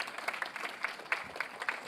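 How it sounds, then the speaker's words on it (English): An audience at a World Productivity Forum event applauds in a brief, moderately distant burst of scattered hand claps, steady in density with no voices over it. "please give him a round of applause"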